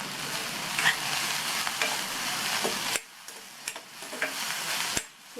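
Tomato, tamarind, onion and garlic sauté in a pan for a chana dal chutney, giving a loud, steady sizzle with ticking stirs of a spoon. The frying sound quiets partway through, leaving softer crackles and taps.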